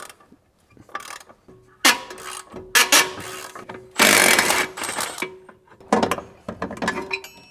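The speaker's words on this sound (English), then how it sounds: "Now I'm gonna unbolt the sway bar link from the sway bar." Mechanical ratcheting and wrench work while unbolting a sway bar link on a Maserati Quattroporte GTS V8, a series of close, uneven clicking and clanking bursts with short pauses between them.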